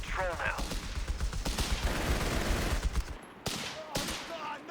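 Machine gun bursts in Company of Heroes 3 rattle loudly in a dense, continuous barrage mixed with other battlefield gunfire, broken by a brief lull before more shots.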